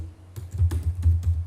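Quick keystrokes tap on a computer keyboard as networking commands are typed, a short burst of close, irregular clicks.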